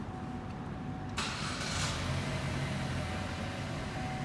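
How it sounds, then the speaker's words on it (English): A school car's engine starts during an emissions inspection: a brief cranking burst settles into a steady, low idle hum that continues to the end, fairly close with no talk over it. "I'm going to start the vehicle."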